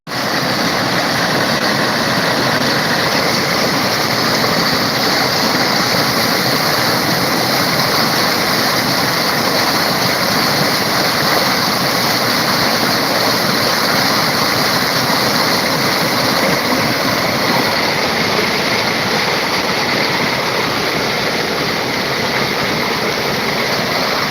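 Water from a village stream near Ranipet in Vellore district pours over a small waterfall, a loud, dense, unbroken rush that stays close and constant from start to finish.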